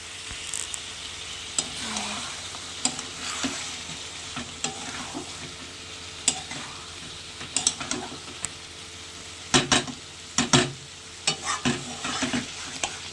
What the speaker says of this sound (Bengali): অল্প অল্প জল দিয়ে কষাচ্ছি।